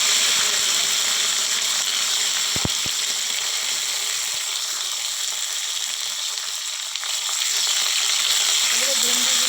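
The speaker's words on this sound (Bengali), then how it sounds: "এবারে ভেন্ডিগুলো একটু ভালো করে ভেজে নেবো" Okra frying in a pan makes a continuous hiss and crackle, with a couple of sharp clicks early on.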